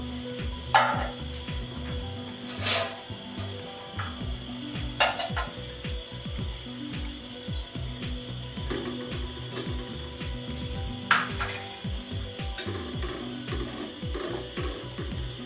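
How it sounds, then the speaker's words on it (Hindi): A spoon stirs masoor dal with peas in a metal pot, clinking and scraping in an irregular rhythm, close and fairly quiet, over a faint steady hum. "इसको हमने हिला लिया है"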